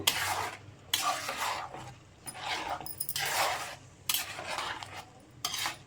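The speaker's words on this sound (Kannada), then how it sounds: "ಈಗ ಮಿಕ್ಸ್ ಮಾಡ್ಕೊಳ್ಳೋಣ." Chicken curry masala with ground cashew paste stirred in a pan, repeated scraping and stirring strokes in uneven bursts with a faint sizzle underneath.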